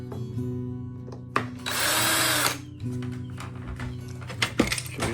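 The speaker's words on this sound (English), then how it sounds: "So decided to finally put a Phillips bit in a drill" A power drill fitted with a Phillips bit runs up in short bursts, with a loud, sustained high-speed whir in the middle and a steady motor hum around it, close by.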